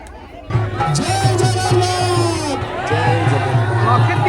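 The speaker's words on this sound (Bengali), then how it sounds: "ভিড় ক্রমশ বাড়ছে" A growing festival crowd fills an outdoor Rath Yatra procession in Canada with steady murmuring chatter, overlapping voices and a low drone, close and continuous, while nearby voices talk.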